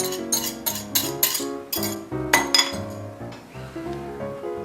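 Eggs are whisked in a bowl, a quick run of bright clinking taps of the whisk against the bowl in an uneven rhythm, close and fairly loud, with no voices.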